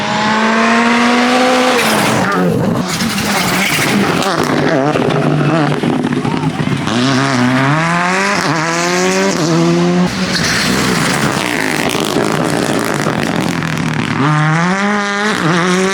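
WRC rally cars roar past at speed on a stage in Croatia, engines rising and falling in pitch as they approach and recede, with tire noise and spectators chattering throughout.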